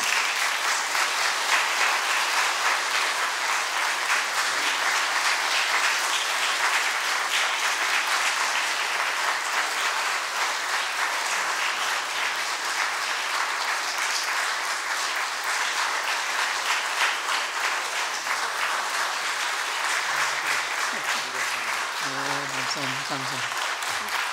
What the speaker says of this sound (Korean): 박수로 우리 목사님 환영합니다.